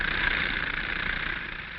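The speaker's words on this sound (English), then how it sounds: "The power is furnished by an air compressor, which is run by a gasoline engine." A gasoline engine drives an air compressor that powers air-hammer drills at a blasting site; it hums steadily and loud, with an even, continuous drone and no break.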